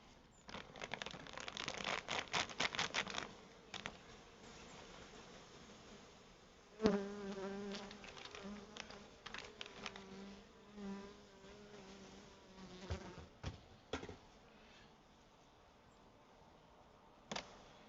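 Honeybees buzz in scattered bursts close by during hive smoking in winter, droning and whining as they fly around, with occasional rustling and knocking in between.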